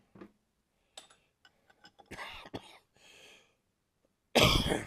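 A person with a spring cold coughs once, loud and close, near the end, after a stretch of faint scattered clicks and soft rustling.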